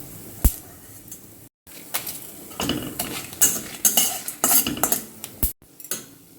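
Metal utensil scrapes and clinks against a pan in irregular bursts while stirring mustard seeds, cumin and dried red chillies frying for gongura chutney, with brief pauses, close and fairly loud, no talking.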